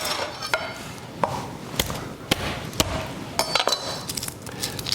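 Fresh garlic sliced thinly with a knife on a cutting board, a series of sharp, irregular close knife taps and chops, loud against a quiet kitchen background.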